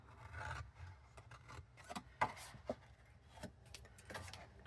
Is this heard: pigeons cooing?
no